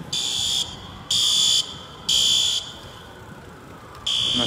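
A fire truck siren blares a piercing electronic tone in long, evenly spaced bursts with short gaps between them during the Minneapolis riot of May 2020, loud and steady under faint background noise.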